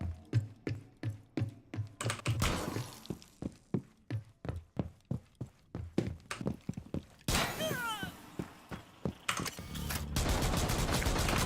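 Rapid gunfire from Rainbow Six Siege plays as a steady string of sharp, evenly spaced shots, loud and close, broken by a brief noisy stretch and then more shots.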